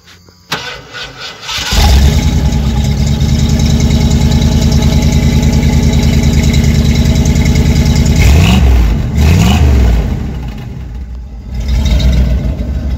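A 1987 Ford Bronco with a 351 Windsor V8 and a mild cam cranks briefly, then fires into a loud, close, throbbing idle with a couple of blips of revving partway through.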